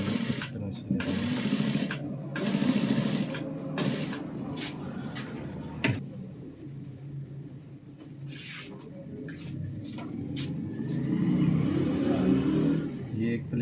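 A sewing machine stitches cufflinks in bursts of close mechanical whirring, stopping and restarting, with quieter handling noises in the pauses.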